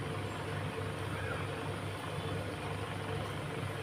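Samosas frying in hot oil on a low gas flame, giving a steady, dense sizzle that runs unbroken at the same level throughout.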